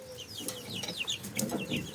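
Young chicks and a Janzé rooster in a coop, with a steady stream of high, falling peeps over soft low clucking and rustling, close by.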